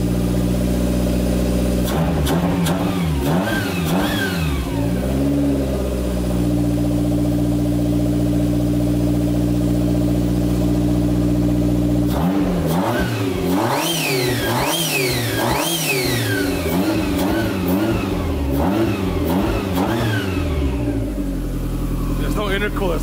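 A loud Toyota AW11 engine with a 3SGTE swap and no intercooler revs repeatedly on first start, climbing and falling in pitch with bursts of acceleration, settling into a rough idle between the revs.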